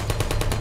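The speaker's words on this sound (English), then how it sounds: "Stop shooting." Sentry turret in Portal fires a rapid burst, about six evenly spaced sharp shots in under a second, loud and close with no voices.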